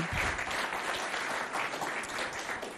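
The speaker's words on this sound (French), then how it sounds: "On l'applaudit bien fort" A school hall audience at a lycée event applauds a student standing in the room, a thick continuous roar of clapping that stays loud and even from start to finish.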